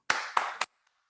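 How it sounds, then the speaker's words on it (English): Three sharp, separate hand claps sound close in a quiet room at a high school literary arts festival, then silence. "Everyone in the room, round of applause for Daniel Sevilla."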